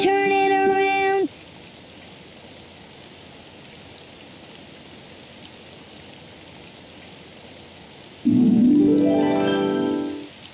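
Steady soft rain patter fills the background of a children's cartoon, with brief musical tones at the start and end.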